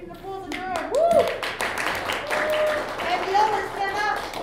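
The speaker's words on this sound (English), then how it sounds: "You need an applause in the room." Brief round of audience clapping for the cello section at a string orchestra spring concert, with cheers and voices mixed in over steady hand claps.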